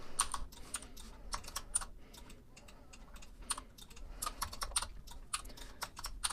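Keystrokes on a computer keyboard during 3D modelling work, a steady run of quick, light taps in irregular bursts, close and fairly quiet, with no talking.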